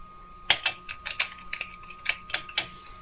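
Keys are pressed at random on a TMX-1795 text entry demo, about a dozen sharp, irregular clicks, close and fairly quiet over a faint steady hum, with no talk.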